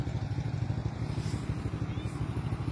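A motorcycle rides along a road in Quirino, Ilocos Sur, its engine putting out a steady, close, rhythmic rumble throughout, with wind noise and some faint talk underneath.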